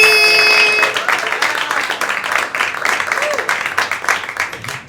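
Comedy club crowd at Laughing Skull in Atlanta claps and cheers for a comedian taking the stage, a busy, uneven patter of hands with a host's voice and crowd noise mixed in, starting loud then easing.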